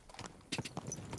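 Horse hooves clip-clop at a walking pace in the medieval game Kingdom Come Deliverance 2, a quiet string of soft, irregular footfalls that grows a bit firmer partway through.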